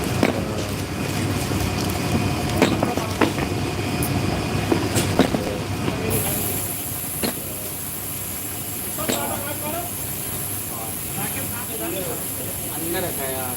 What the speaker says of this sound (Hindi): ट्रेन गया है यार